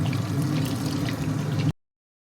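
Prawns for honey prawns fry in hot oil with a dense, even hiss that holds steady for under two seconds and then cuts off abruptly.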